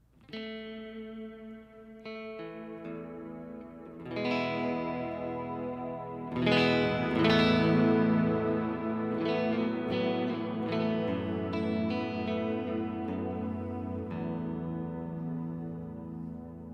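Electric guitar through a Sloer stereo ambient reverb pedal on its Dream program, washed in lush, spacious reverb, chords and single notes ringing out and swelling in loudness, with long shimmering tails and no talking.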